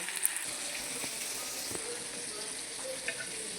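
Garlic sizzles in hot oil in a pan, a steady close crackling hiss with a few soft clinks and stirring sounds.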